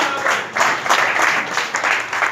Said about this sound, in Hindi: तालियों स्वागत करें।